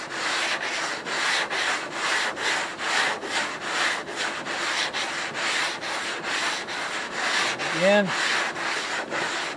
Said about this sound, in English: making sure you've got to use 2 hands on this one so that you can get everything nice and evenly sanded